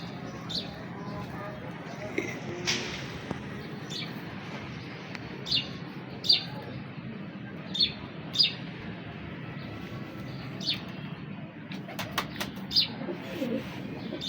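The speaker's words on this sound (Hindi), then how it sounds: "ये स्लेटी कमगर कबूतर है मेरे हाथ में" A slate Kamagar pigeon coos close by in the hand, soft and low against steady background noise, with a few sharp chirps scattered through and a voice speaking now and then.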